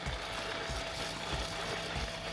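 A YARDCARE V100 robot lawn mower runs steadily while cutting a lawn, a close, continuous mechanical whir with a faint regular pulsing beneath and no voices.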